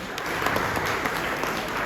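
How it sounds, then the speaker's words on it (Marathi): Steady applause from a crowd at an awards event at Azad Maidan in Mumbai, continuous dense clapping throughout, moderately loud and unbroken. "जोरदार टाळ्या."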